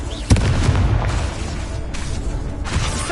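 A Confringo fire-blast spell bursts in Hogwarts Legacy, opening with a sharp, loud boom and then a dense rumbling roar that carries on through the whole clip amid ongoing combat noise.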